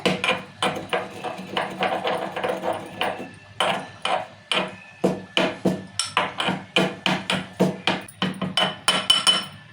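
Cloves and spices being pounded with a pestle, a long run of sharp, evenly spaced thuds that grow quicker and more regular toward the end, close and clear with no talking.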